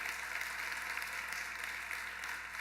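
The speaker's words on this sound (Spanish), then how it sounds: "Aplauda fuerte, aleluya." A church congregation applauds in a steady, even wash of clapping, heard fairly faint and distant throughout with no talk over it.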